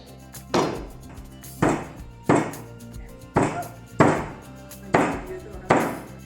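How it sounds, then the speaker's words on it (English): Ginger, galangal and lemongrass pounded in a mortar with a pestle, seven heavy, close thuds at an uneven steady pace, each with a short crunching decay. "use our mortar and pestle to sort of crush and pound these ginger, lengkuas, or greater galangal, and lemongrass"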